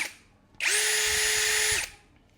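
A TOTAL 20V brushless cordless drill spins up abruptly and runs at a steady high whine for just over a second before cutting off, loud and close.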